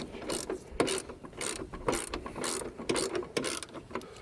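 A ratchet tightens bolts on a Toyota Yaris MK1 door strap, giving a close, quick series of clicking pawl strokes in uneven bursts with short pauses between them.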